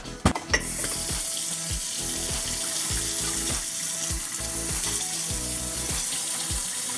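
Close water from a tap runs steadily into a container while cooking in an Instant Pot, a continuous hiss with a few short knocks at the start.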